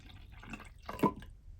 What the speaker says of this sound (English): So first we're gonna pour in the soy milk.